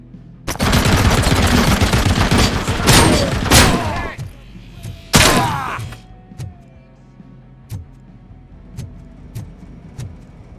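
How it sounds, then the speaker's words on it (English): Gunfire in the video game RoboCop: Rogue City, a loud dense burst of rapid shots and blasts for several seconds, then one heavy shotgun boom and scattered thuds as a voice talks over the action. "this shotgun feels great, dude"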